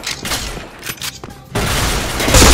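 Gunfire in the Point Blank shooting game, a dense burst of rapid shots and impacts that swells louder toward the end, with a voice briefly audible beneath.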